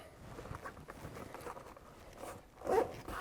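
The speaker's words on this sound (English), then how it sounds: "Zip it up" A Nintendo Switch Lite travel case being zipped closed: a quiet, short zip rasp near the end, after soft handling noises.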